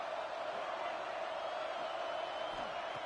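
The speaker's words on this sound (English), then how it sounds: "Third down and the crowd really getting into it." Football stadium crowd noise during a third-down play at a college game, a steady, dense roar of voices and cheering filling the whole clip without breaks.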